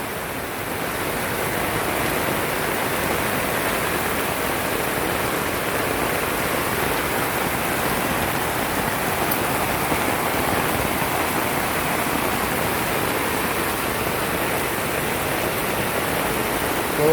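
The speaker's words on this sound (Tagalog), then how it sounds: "patuloy pa rin lumalakas ang ulan, hindi pa rin umihinto" Heavy rain pours steadily during a downpour in Montalban, Rizal, with a dense, even hiss that holds at a constant loudness and no voices over it.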